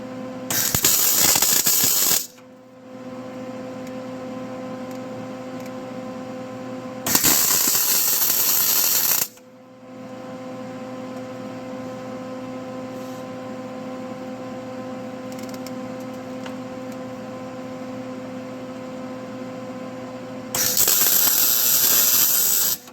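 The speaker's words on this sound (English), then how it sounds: "I'm just gonna tack weld it in a couple places" A Suzuki Samurai Tri-Y exhaust header is tack welded in a few spots: three loud, harsh crackling bursts of a few seconds each, separated by a quieter steady machine hum.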